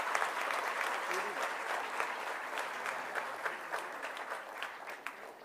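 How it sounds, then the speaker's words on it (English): A college auditorium audience on Teachers' Day breaks into a big round of applause, dense and sustained clapping that slowly tapers, fairly distant, with faint voices underneath. "May we have another big round of applause for Mr. Gautam Adani"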